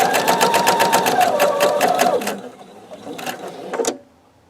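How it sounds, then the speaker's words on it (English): A sewing machine stitches a log cabin quilt strip with a 1/4 inch seam, running in a fast steady rhythm for about two seconds, then stopping, with a couple of brief bursts of stitching near the end. "So I'm going to start sewing on that with my 1/4 inch seam."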